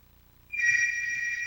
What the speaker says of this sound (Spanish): deme un segundito para ver si alguien en mi casa contesta el teléfono